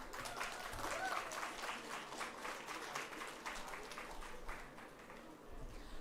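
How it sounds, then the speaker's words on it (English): An audience at a Model United Nations awards ceremony applauds continuously, a sustained, distant wash of many hands clapping with faint crowd murmur underneath. "Please keep the applause going."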